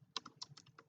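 Dummy text being typed on a computer keyboard: about eight quick, light key clicks in an uneven rhythm, close and quiet, with no voices.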